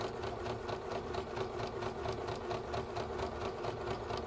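A sewing machine stitches a Christmas stocking with a fast, even mechanical whir and rapid rhythmic needle chatter, steady and close, with no talking.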